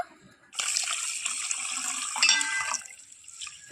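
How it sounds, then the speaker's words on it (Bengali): A bowl of sago pearls rinsed under running water, a close splashing gush of tap water that starts abruptly, swirls for a few seconds and then tapers off. "এখন জল দিয়ে খুব ভালোভাবেই ধুয়ে পরিষ্কার করে নেব"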